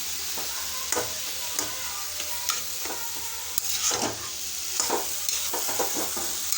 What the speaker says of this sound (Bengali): এখানে খুব ভাজবো ঘি দিয়ে